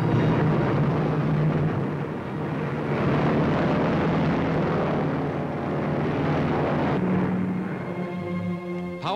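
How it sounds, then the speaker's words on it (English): A Lockheed Constellation, a four-engine 1940s transport plane with 18-cylinder motors, drones loudly and steadily in flight, a heavy continuous engine roar with a low hum that swells and fades slightly, no voices. "Lockheed Constellation, world's largest land-based transport plane, prepares to make its first public flight"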